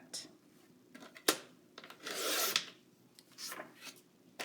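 Paper is trimmed for a 12x12 scrapbook page layout, giving short, quiet rasping slides and a few soft clicks of a cutter blade, with one longer cutting stroke near the middle.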